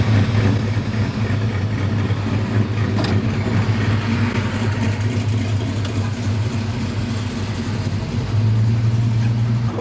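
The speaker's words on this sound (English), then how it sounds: "School bus riding down the highway, man." Steady low engine drone of a school bus cruising on a highway, loud and continuous throughout, mixed with wind buffeting the microphone.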